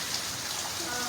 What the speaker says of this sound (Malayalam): മഴ പെയ്യുന്നുണ്ട്. എന്തൊരു മഴയാണ് നോക്ക്.